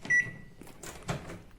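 A Samsung MG23K3515AW 23-litre grill microwave oven gives a short electronic beep, then its door opens with a few close latch clicks and light plastic clunks, with no talking.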